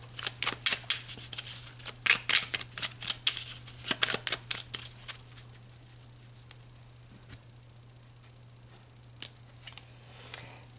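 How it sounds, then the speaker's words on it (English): Tarot cards are shuffled in quick, crisp riffling bursts that come close and loud for about five seconds. Fainter, scattered flicks and taps of cards being handled and pulled follow, with no talking. "So let's pull an advice card"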